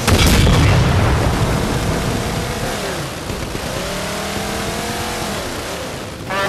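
A Banshee aircraft in Halo 4 roars past loud and close, its whooshing engine sweep rising and falling with booming gunfire and explosions mixed throughout.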